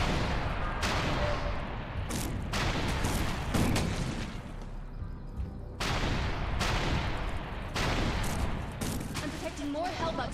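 Sustained gunfire in the sci-fi shooter Defiance, a dense run of loud bursts and volleys repeating through most of the stretch with brief gaps, overlaid with talk.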